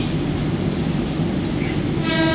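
A Mumbai local train at a platform of CSMT station, dense steady rumble of the running train with a tonal horn or whistle rising toward the end.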